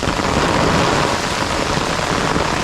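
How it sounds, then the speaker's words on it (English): Steady, dense rain pours down on a mountain hike along the Appalachian Trail near Blood Mountain, a continuous loud hiss filling the whole stretch with no voices. "she thought she'd be cute and funny and add a little rain to the mix"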